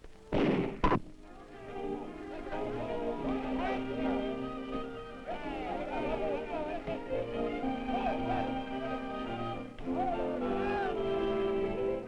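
A heavy-cartridge weapon firing a 234-grain round gives one loud, sharp blast near the start, and steady tonal music carries on for the rest of the clip.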